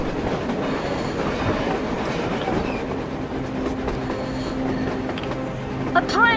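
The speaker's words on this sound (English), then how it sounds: "A train! A damn train on the surface!" A train in the Metro Exodus video game, heard as a steady rumbling rail clatter with a low hum, building slightly and ending in a brief metallic squeal, while game voices speak over it.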